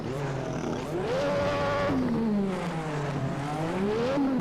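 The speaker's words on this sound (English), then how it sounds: "That's a loud car." A loud video-game car engine drones steadily, its pitch climbing and falling as it revs through gears, close and constant throughout.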